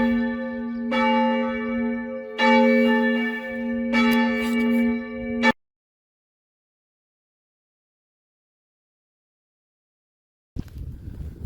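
Church bells ring out in slow, resonant strokes, their tones lingering and overlapping, then fall silent before a faint rustle of activity returns.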